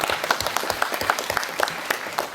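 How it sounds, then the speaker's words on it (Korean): Steady, dense applause from a seated audience opening the 20th Sea Literature Award ceremony in a concert hall, continuous and fairly loud throughout the short stretch. "푸른 바다의 숨결과 문학의 향기가 함께하는 제20회 바다문학상 시상식을 여러분의 큰 박수와 함께 시작하겠습니다"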